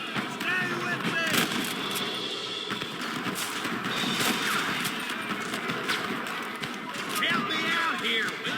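Gunfire crackles in the Western video game Red Dead Redemption during a fort shootout, scattered shots and bursts mixed with hoofbeats and shouting voices, busy and continuous throughout.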